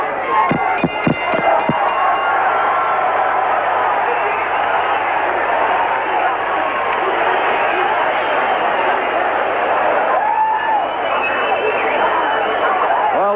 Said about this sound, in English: a standing crowd showing their appreciation of the effort of two well-conditioned heavyweights over the scheduled 12-round distance